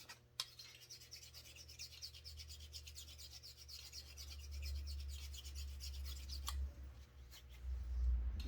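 A metal file rubs residue off the intake of a Husqvarna backpack blower, giving a steady close scraping rasp that continues throughout over a low background rumble, with no talk.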